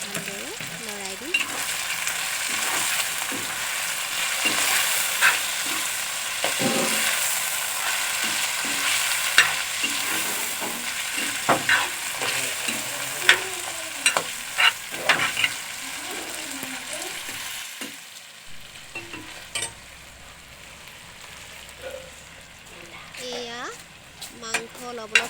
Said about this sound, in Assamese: এতিয়া মাংসখিনি মই দি দিম। ভালদৰে লৰাই দিম।